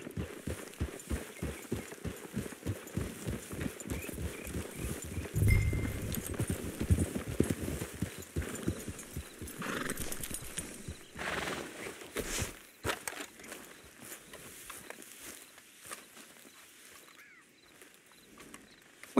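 Horses in Red Dead Redemption 2 clip-clop along at a steady walk-to-trot pace, hooves loud and close for most of the stretch before fading toward the end; no clear neigh stands out.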